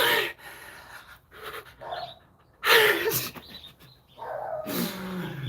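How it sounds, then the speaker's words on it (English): A dog barks in several separate bursts, close and fairly loud, with short quiet gaps between them and some panting-like breathy sounds. "We can escape the dog's relentless barking."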